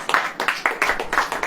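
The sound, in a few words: audience clapping hands at church sermon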